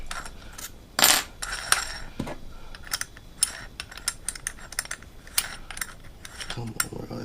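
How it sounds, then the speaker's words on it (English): A hammer drill bores a bigger hole through a metal PC case, giving sharp rattling bursts and scattered clicks in short irregular spurts, close and fairly loud, with no talk. "That's on hammer drill or something."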